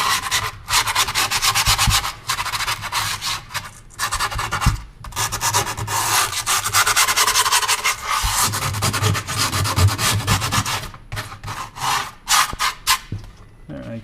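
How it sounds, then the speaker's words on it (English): Skateboard grip tape edges being sanded after folding over the deck edge: a loud, continuous rough scraping and rubbing in rapid back-and-forth strokes, close up, with brief pauses between passes. "fold it over, and give the edges a little bit of a sanding. Again, not a pleasant noise"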